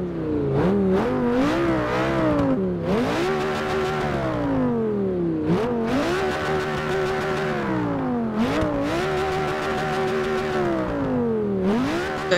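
Audi R8 V10 Plus engine in the racing game Forza Motorsport 6, revving loudly and repeatedly, with its pitch sweeping up and then dropping back in several close, rhythmic cycles.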